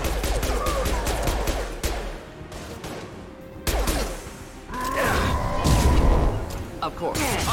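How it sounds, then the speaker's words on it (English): Mass Effect 2 combat gunfire, heavy bursts of automatic shots and booming impacts, loud and close, with squadmates talking over the firefight. "Firing a high-impact shot."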